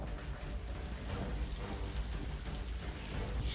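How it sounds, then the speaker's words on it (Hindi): Heavy downpour in Jaipur, Rajasthan, heard as a dense, loud, continuous hiss of rain, steady and unbroken with no voices. "दौसा और राजधानी जयपुर में बारिश झमाझम हुई"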